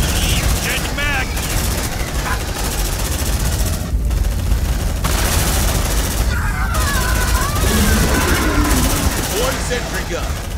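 A sentry gun in Aliens: Dark Descent keeps up loud, dense automatic fire under a steady wash of combat noise, with radio-style voices breaking in at points.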